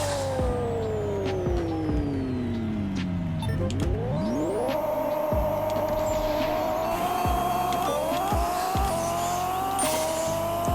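In a drag race in the mobile game Pixel Car Racer against a BMW M4, engines rev and rise in pitch through rapid gear shifts, with whining tones and sharp shift pops, loud and continuous.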